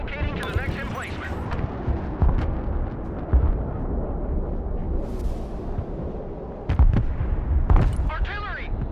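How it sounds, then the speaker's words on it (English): Rocket artillery firing in the video game Broken Arrow: repeated booming blasts and bursts, the strongest near the middle and end, over a continuous dense rumble of battle, with game voices talking throughout. "Artillery, fire when ready."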